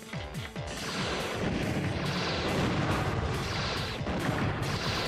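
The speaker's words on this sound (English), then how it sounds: "And that's the Gatling gun right there." A Gatling gun fires in the Custom Robo video game, a loud and sustained barrage of rapid shots with booming impacts that carries on without a break. There is no talk over it.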